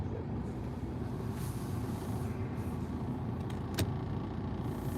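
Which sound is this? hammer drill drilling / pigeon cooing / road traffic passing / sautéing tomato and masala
road traffic passing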